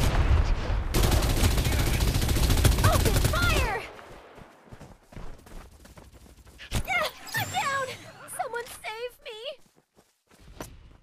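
Dense, loud automatic gunfire in the Farlight 84 battle royale video game, with sustained rapid shots, then scattered game sounds and voice callouts.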